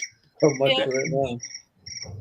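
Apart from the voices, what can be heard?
phone ringtone of chirping crickets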